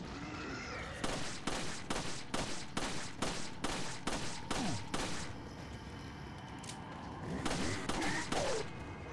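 Gunshots in the survival horror game Resident Evil 4, a steady string of about a dozen evenly spaced sharp shots, followed by a short pause and a few more, with little talk over them.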